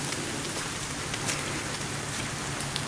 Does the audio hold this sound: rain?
yes